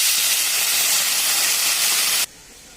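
A loud, steady hiss of water poured into a hot pan of fried egg and cauliflower, rushing sizzle for about two seconds before it suddenly drops to a quiet simmer.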